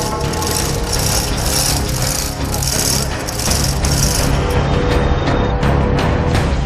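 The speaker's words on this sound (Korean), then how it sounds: "도끼며 망치며 쇠지뢰까지 온갖 도구들까지 총출동하는데요" Hammers and axes strike metal while workers dismantle a ship's propeller shaft in a repair yard, a loud, dense clatter of rapid banging blows that continues throughout with heavy background noise and no speech.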